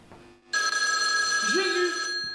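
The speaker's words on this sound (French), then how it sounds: "Jésus, le téléphone." A telephone bell rings in a steady, bright metallic trill lasting about two seconds, with a brief voice sound partway through.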